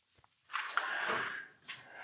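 Drawer sliding open in a shop, a short rolling scrape lasting about a second followed by a second brief slide, close and fairly quiet with no talking.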